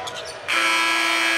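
A game-ending buzzer at an NC State Wolfpack men's basketball game against Florida State cuts in after a brief murmur and then holds as a loud, steady electronic drone.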